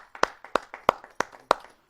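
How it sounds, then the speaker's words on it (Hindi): A few audience members at a Hindi poetry gathering clap to welcome a poet, about six or seven distinct, sparse claps in a loose rhythm, close and fairly faint with short gaps between them. "आइए सर का हम जोरदार तालियों से स्वागत करते हैं।"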